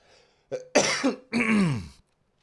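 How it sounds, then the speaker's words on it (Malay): A person coughs twice, harsh and close up, with a short throat-clearing catch at the start. "Ada batuk sedikit ya"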